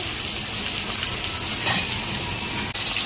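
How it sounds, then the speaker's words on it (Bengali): Fish frying in a pan, a loud continuous sizzle and crackle of hot oil, with a brief clink near the end. "তো এক সাইড ভাজা হয়ে গেছে এখন মাছটা"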